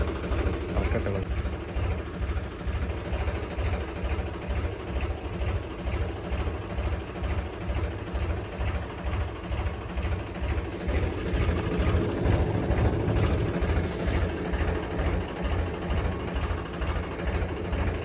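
A tractor engine idles out in a field in a Haryana village, a loud, close, low rhythmic chug throbbing steadily throughout with some speech over it.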